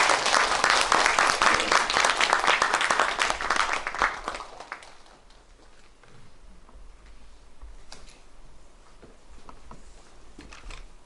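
An audience applauds at a Korean book-reading concert as novelist Kim Jin-myung is welcomed onto the stage. Loud, dense clapping fills the first four seconds, then thins to scattered claps and low murmur.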